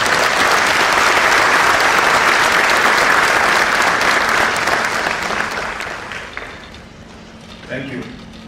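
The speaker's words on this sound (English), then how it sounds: "Can I request this August Assembly to give a round of applause to" An assembly at a university convocation applauds the Chancellor with a dense, loud burst of clapping that slowly fades over several seconds, followed by a few faint sounds of a hall settling.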